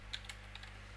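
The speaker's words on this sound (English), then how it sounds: "I'm typing everything." Quick keyboard typing, a few sharp clicks standing out over a steady low hum, close and fairly quiet.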